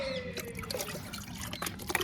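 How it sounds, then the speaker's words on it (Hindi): Water mixed with fungicide being poured for newly arrived rose plants: a close, steady splashing trickle with small drips and gurgles throughout, with no talking. "इस पानी को मैं इसमें मिला"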